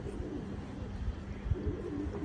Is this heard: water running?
no